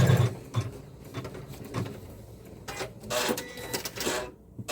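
A home embroidery machine stitches a quilting project, producing a steady mechanical chatter with rhythmic thumps and whirring bursts, close and continuous.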